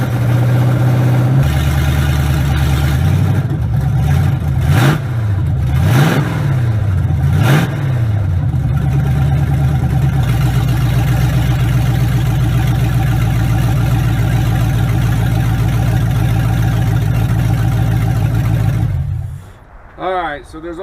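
The engine of a 1967 Chevrolet C10 truck cranks, catches and fires, then revs up and down several times in a few quick swells before settling into a loud, rough idle that cuts off at the end.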